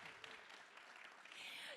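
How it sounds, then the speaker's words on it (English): An audience applauds as a panel guest is introduced at a global health event, a faint, distant, continuous clapping that holds steady and swells slightly near the end. "Round of applause, I think."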